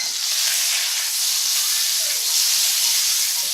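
Shrimp dropped into hot butter with lemon juice in a pan for shrimp scampi, giving a steady, loud, close sizzle and hiss that runs without pause and no talking.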